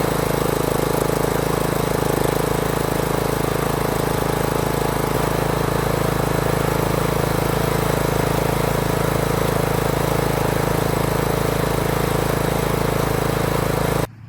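The engine of a Craftsman riding lawn mower runs close by at a steady idle after an oil leak repair, giving a loud, constant drone that cuts off abruptly at the end.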